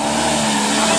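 A Mitsubishi Canter Super HDX truck climbs a steep hill at Tanjakan Kedabuhan, its engine droning loud and strained under heavy throttle in a brief, steady burst.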